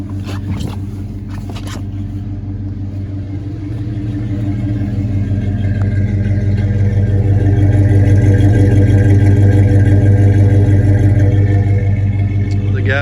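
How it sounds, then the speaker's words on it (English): Engine of a 1986 GMC Sierra Classic square-body truck idling steadily, a deep continuous rumble that swells slightly louder partway through and holds, close and alone with no talk. "Now in the summer it'll fire right up, but the colder it gets, you got to pump it a few times to get it cranked, but like I said, it runs pretty good."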